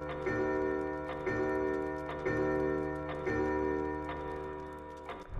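A clock in the mansion of Resident Evil HD Remaster sounds a steady series of about six resonant, ringing beats, one roughly every second, each decaying before the next, alone and fairly close.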